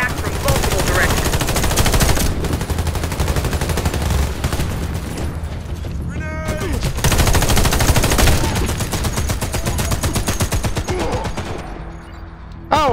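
Sustained heavy machine gun fire in the Warface shooter game, long rapid bursts loud and close with brief gaps, mixed with other gunfire and battle noise, and a faint voice now and then.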